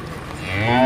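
Young heifers on a farm lowing, a single moo rising and growing louder over under a second, close by with no talk.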